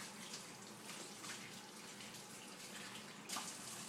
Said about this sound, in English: Now I'm going to actually wash my hands before I do anything with food.